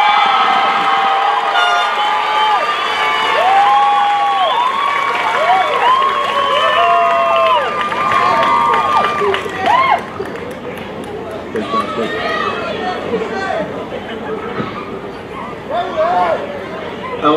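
Crowd at a 2017 New Milford High School graduation ceremony applauding and cheering, a steady wash of clapping and shouts with voices talking over it through most of the stretch.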